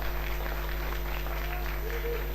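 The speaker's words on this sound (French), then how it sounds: "Merci pour les applaudissements d'ailleurs." Studio audience applause at the opening of a live French music TV show, a steady wash of clapping heard at a distance over a constant low hum.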